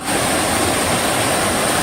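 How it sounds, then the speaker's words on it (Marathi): Steady, loud roar of Amboli's small roadside waterfall in monsoon rain, a dense continuous rush with no break over the short stretch. "हा बघा छान धबधबा आहे बाजूला छोटासा"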